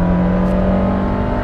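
A Lancia Delta Integrale 16v turbo engine holds a steady, loud drone with sustained harmonic tones, heard close and continuously with no talk over it.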